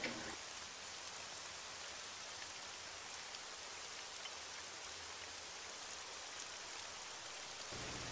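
Steady rain in a video game, a constant hiss of falling water that stays even and moderately loud throughout, with no voices over it.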